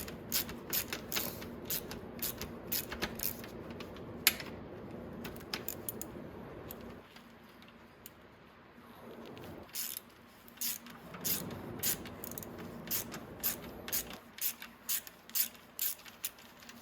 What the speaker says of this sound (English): I'm just going to remove those bolts